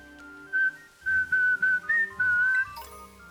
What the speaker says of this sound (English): I did not mean to whistle so loud.